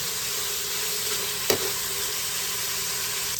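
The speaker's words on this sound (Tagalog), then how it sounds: "Brown muna natin ng mabuti guys para ano." Food browns in a frying pan with a steady close sizzle and hiss, broken once by a single sharp knock of a utensil against the pan.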